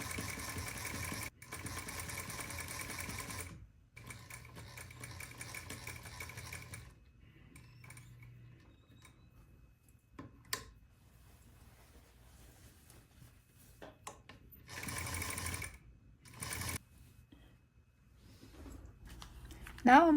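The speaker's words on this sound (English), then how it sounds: "I'm stitching 1/4 away from the guideline I created" A sewing machine stitches fabric for a tailored back welt pocket, running in steady whirring bursts of a few seconds each, separated by quieter pauses while a person speaks.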